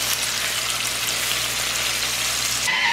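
Onions fry in a pot, giving a steady soft sizzle with faint crackles that cuts off abruptly near the end.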